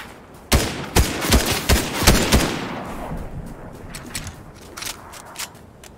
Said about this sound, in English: I thought the shooting was coming from southwest